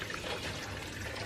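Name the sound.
pouring fabric softener into laundry water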